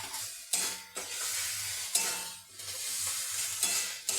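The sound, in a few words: frying vegetables with turmeric and salt in a pan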